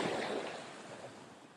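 Rough sea on the Crimean coast near Malorechenskoye surges as one broad, close wash of surf that slowly fades, with wind noise around it.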